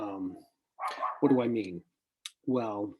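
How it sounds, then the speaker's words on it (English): A dog barks somewhere in the background, short sounds tucked between stretches of someone talking close by. "there was just a dog barking"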